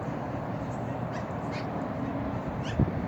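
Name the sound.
magpie calling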